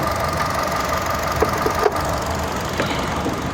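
A 2024 Kia Seltos engine idles with the engine bay open, a steady low rumble with light ticking, heard up close.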